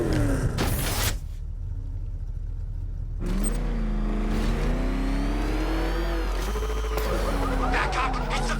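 Batmobile from a 2015 Batman video game, its engine whirring and revving loudly with rising and falling pitch, punctuated by mechanical clunks and a brief lull before the drone resumes steadily.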